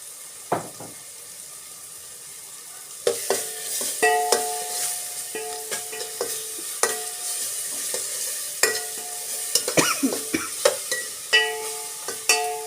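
Half a spoon of turmeric goes into a pan of frying ingredients before spinach is added. After a quiet opening with one clink, there is a run of stirring and scraping with clattering utensil knocks over a light sizzle.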